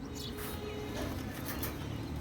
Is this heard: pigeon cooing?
yes